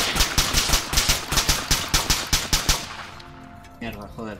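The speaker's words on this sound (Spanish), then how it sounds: "Está asomando y disparando." An enemy shooter's gunfire in the video game Arma 3: about a dozen evenly spaced, sharp shots crack in a steady rhythm, then stop abruptly, after which a voice speaks briefly.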